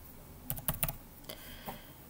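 A computer keyboard is tapped to type a group number, a short quiet cluster of keystrokes followed by a couple of single taps, close and alone.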